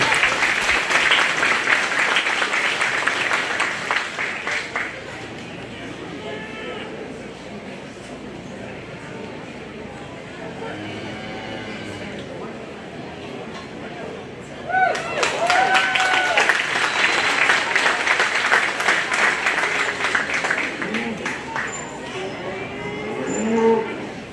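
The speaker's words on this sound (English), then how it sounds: "just give them a big round of applause" Applause from a county fair livestock show audience, a loud burst near the start that fades into murmuring crowd noise and talk, then swells again into a second strong round of clapping.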